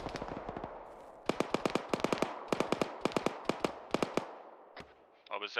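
A BTR armoured vehicle firing in the Arma military game, rapid bursts of sharp cracking shots in several rhythmic volleys, fairly distant, with brief gaps between strings.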